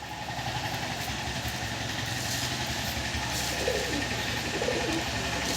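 Pigeons at a pigeon sale in Nadia coo softly over a steady engine-like idling drone, the birds faint and intermittent beneath the constant background hum.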